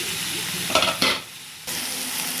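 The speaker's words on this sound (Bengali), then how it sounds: "দেখুন 1 চামচ বাটার দিয়ে কড়াইতে এইরকমভাবে আমি হালকা করে ভাজছি।" Chicken skewers fry lightly in a spoonful of butter in a kadai, a continuous crackling sizzle broken by a couple of sharp scraping stirs, then a brief quieter lull before the sizzle returns at full strength.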